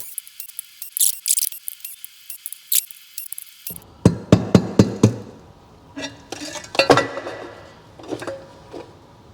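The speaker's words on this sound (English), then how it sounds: "Okay, 10 bolts to pull off." Metal clinks and sharp ratcheting taps from removing ten bolts on a 1986 Chevrolet Monte Carlo SS differential cover during a post-crash rebuild, close and repeated in irregular bursts, with a quieter clattering stretch before them.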